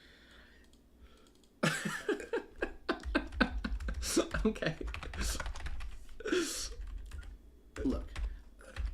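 Someone types rapidly on a computer keyboard while entering a Warhammer 40,000 Chaos Space Marines army list, a dense run of close clicks under brief talk.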